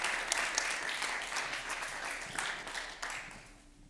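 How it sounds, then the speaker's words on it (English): An audience at a tech talk about testing Qt Quick Ultralite applications on MCU devices claps steadily for a few seconds, then the applause tapers off. "Maybe a round of applause for KATARINA."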